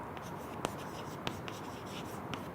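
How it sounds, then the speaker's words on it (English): Pen or chalk writing during a lecture, faint scratchy strokes with a few sharp taps on the writing surface over steady room hiss, no voice. "So, let me write this down."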